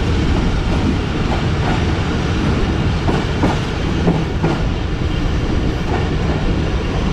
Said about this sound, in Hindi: पीएलसी लेने के बाद दोबारा से एक्सीलरेट करना शुरू किया है ट्रेन ने।